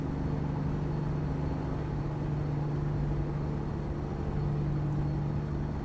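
A Kenworth W900 truck in American Truck Simulator labours under a super heavy load of about 150,000 pounds, its 725-horsepower engine droning in a steady, low continuous rumble with a constant hum.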